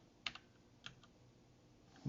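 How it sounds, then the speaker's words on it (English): A few sparse keystrokes on a computer keyboard, quiet clicks spaced apart in a short burst, with no voices. "I'm probably typing badly here."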